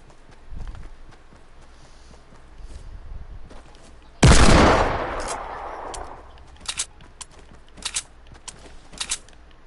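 A hand cannon fires in the Fortnite video game: a single loud, sharp blast with a ringing tail, followed by several short distant cracks and clicks against a quiet background.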